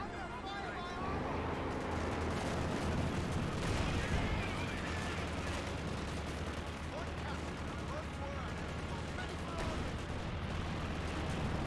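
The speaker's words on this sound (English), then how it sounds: "this airstrike will go ahead and ward away the Comet tank for the foreseeable future" Battle noise from Company of Heroes 2 as an airstrike and artillery fire pound away: dense, continuous rumbling blasts and rattling gunfire crowd together at moderate loudness, with someone talking over them throughout.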